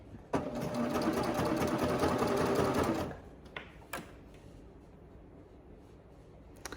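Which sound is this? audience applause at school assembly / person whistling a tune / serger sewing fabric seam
serger sewing fabric seam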